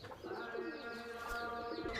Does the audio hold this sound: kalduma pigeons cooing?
yes